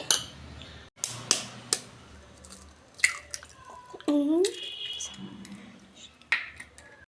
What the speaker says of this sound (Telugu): ఇప్పుడు ఇందులో ఎగ్స్ కొట్టాలండి.